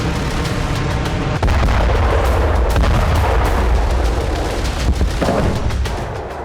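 A massive explosion roars into sustained artillery fire, with deep rumbling booms and sharp cracking blasts rolling continuously and loudly for several seconds.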